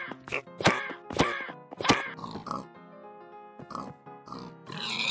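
Pigs grunt in the video game Minecraft, several short, sharp, loud grunts close together at first, then quieter snorts and another grunt at the end.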